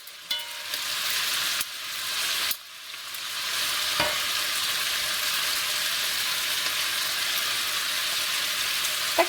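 Steady, loud sizzling of sausage frying in a pan, with a few clatters of stirring; no one speaks.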